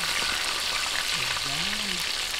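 Chicken seasoned with garlic and fish sauce deep-fries in hot oil, a steady dense sizzle and crackle filling the whole stretch, close and even in level, with a faint tonal squeak drifting through midway.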